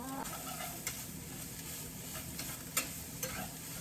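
Mushrooms sizzle steadily in a hot pan, with a few sharp scrapes and clacks of a utensil stirring them, close by and without talk.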